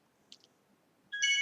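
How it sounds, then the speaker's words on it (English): A phone ringtone starts suddenly near the end, a bright harmonic melody that rings out loud and alone after near silence. "But that's my phone."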